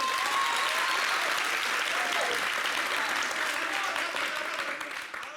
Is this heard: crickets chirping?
no